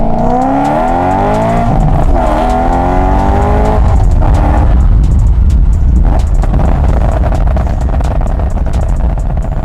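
A loud, close BMW M3 engine with a burble tune revs hard with climbing and falling pitch, followed by sharp crackling pops and exhaust flames over a continuous roar.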